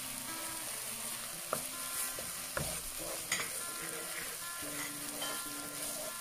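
White sugar goes into a frying pan for an orange chicken sauce, with a soft ongoing sizzle and a few distinct clanks and scrapes of stirring, fairly quiet and close.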